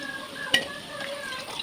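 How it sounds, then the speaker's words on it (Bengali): Potato pieces frying in oil in a kadai, a soft continuous sizzle with a sharp clink of a utensil against the pan and light stirring scrapes, close by. "একটা কড়াইয়ে তেল দিয়ে আমি আলুর টুকরোগুলোকে ভেজে নেব"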